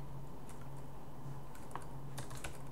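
Keystrokes on a computer keyboard during a coding session, a few scattered clicks and short bursts over steady low hum, close and fairly faint, with no talking.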